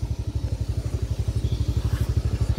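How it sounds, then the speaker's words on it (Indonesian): A motorcycle idles after a long ride on a new mountain road in West Sumatra, its engine throbbing in a fast, steady, loud pulsing beat with light mechanical clatter on top. "Kasihan motor panas dari tadi."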